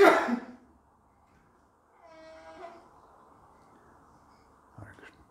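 A single sharp sneeze bursts out close and loud at the start of a talk, followed by quiet room tone and faint vocal sounds.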